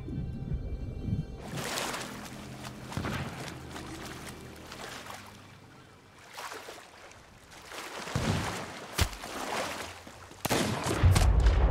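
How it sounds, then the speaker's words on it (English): Sea of Thieves gameplay on an island: several sharp, distant-sounding gunshot cracks ring out between stretches of lapping water and ambient noise, the last burst loudest near the end. "I just got sniped off."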